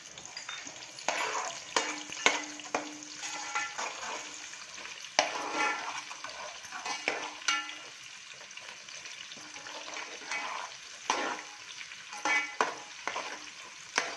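Onion and garam masala frying and sizzling in hot oil for a chicken gravy, a steady crackle with repeated stirring scrapes through the pan, close and moderately loud with no talking.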